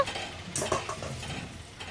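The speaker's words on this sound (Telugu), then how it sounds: "మొత్తం గిన్నెలో వేసేసుకొని సాల్ట్ వేసుకొని బాగా కలిపేసుకొని" A spoon stirs a thick batter of gram flour, cornflour, chili powder and salt with soy chunks in a bowl, making close, wet, irregular scraping strokes with light clinks and no talking.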